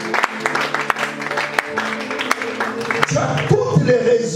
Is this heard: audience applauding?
yes